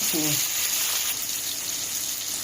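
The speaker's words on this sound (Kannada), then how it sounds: "Fry till the dal is cooked, fried nicely." Dal fries in a pan for a moringa leaves sabzi, a steady, close hiss and sizzle running throughout, with a brief voice right at the start.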